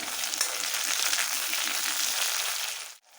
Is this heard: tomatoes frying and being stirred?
yes